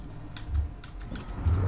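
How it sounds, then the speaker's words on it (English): Keys clatter on a computer keyboard in the game Alien Isolation, a short burst of several quick close taps in an irregular rhythm. "where was my sound? From that keyboard."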